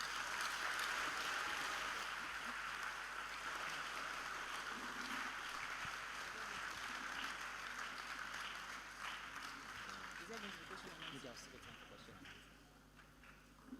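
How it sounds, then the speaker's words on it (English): A conference audience at a mental health event gives a round of applause, soft and fairly distant clapping that gradually thins and fades, with faint voices surfacing near the end. "A round of applause."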